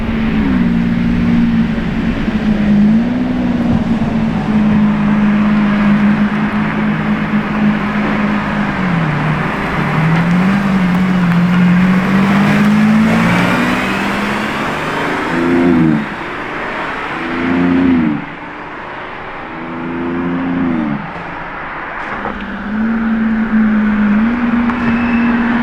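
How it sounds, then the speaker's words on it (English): Lamborghini Revuelto engine: a loud, steady droning engine note with a few shifts in pitch, then several quick rising and falling revs near the end, under faint background noise and no talking. "That is a Revuelto!"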